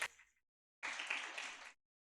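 A church congregation applauds during a sermon, a brief burst of clapping that tails off, a short silence, then about a second of fuller clapping, quiet and somewhat distant.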